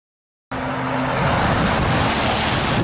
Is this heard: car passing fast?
yes